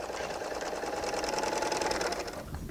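Bernina L890 serger stitching fabric with its cutting blade trimming ahead of the needles, a fast, even, close mechanical whir that runs for a couple of seconds before slowing to a stop.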